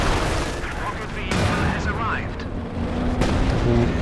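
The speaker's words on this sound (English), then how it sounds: "The sector artillery coming in." A sector artillery barrage in Company of Heroes 2 brings loud, continuous rumbling explosions and booms layered with battle noise, with a commentator talking over them.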